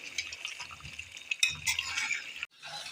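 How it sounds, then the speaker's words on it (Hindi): Aloo chicken curry stir-fried on high flame, with a spoon scraping and clinking against the pot in short bursts over a steady sizzle, with no talking. "अब हम हाई फ्लेम पे इसकी करते हैं अच्छे से भुनाई।"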